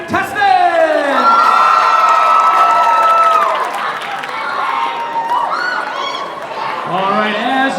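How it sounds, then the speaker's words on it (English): Audience at the LC Idol singing contest cheers for the contestants. Loud whoops and high shouts rise over clapping, fading somewhat midway, then more scattered yells and cheers near the end. "One more round of applause for our LC Idol contestants"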